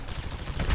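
Rapid machine gun fire in the video game GTA 5, a tight burst of evenly spaced loud shots lasting under a second, close and alone.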